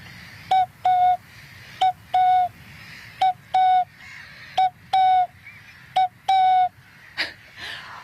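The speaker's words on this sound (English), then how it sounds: "Hopefully that is the unmistakable sound of a cuckoo, brought to you courtesy of this beautiful piece of clay artwork" Handmade clay cuckoo whistle blown in clear two-note cuckoo calls, about seven repeated pairs in a steady rhythm, close and loud, ending with a short breathy sound.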